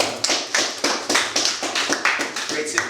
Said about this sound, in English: That's a clapping again.